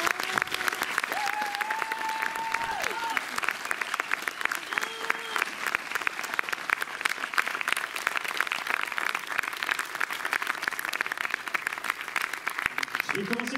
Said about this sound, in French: J'ai envie qu'on vous applaudisse de nouveau très fort pour ça.